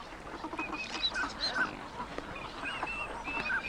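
A flock of ducks, including green-winged teal, calling together in a steady chorus of high whistles, nasal honks and quacks, moderately close and continuous with no talking.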